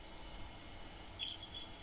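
Water drips falling from a Kelvin dripper electrostatic generator, a faint, steady patter of small drops in a quiet room with a few brighter ticks near the end.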